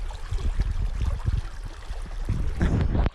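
Water from a stream eroding its bank on a Vancouver Island trail between Port Hardy and Cape Scott flows with an uneven rushing and gurgling, fairly close, with gusty low rumbles mixed in.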